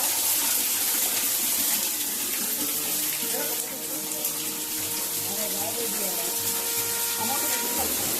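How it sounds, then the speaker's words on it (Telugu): Water pours steadily onto a Shiva lingam inside a hillside temple, a continuous close splashing wash that holds throughout, with faint voices in the background. "ఇలా సంవత్సరం పాటు వాటర్ అనేది గుడిలో ఉన్న శివలింగంపై పడుతూనే ఉంటుంది"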